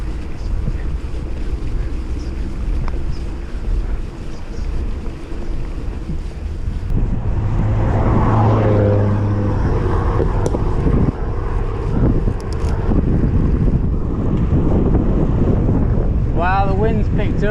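Heavy outdoor wind buffets the microphone in a constant low roar during a roadside test of Schwalbe City Jet tyres on a 26-inch retro mountain bike, with a voice talking partly buried underneath.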